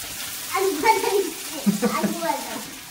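Potato pieces frying in a kadai on a gas stove give a soft, steady sizzle, mostly buried under a person talking nearby.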